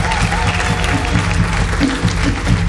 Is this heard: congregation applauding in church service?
yes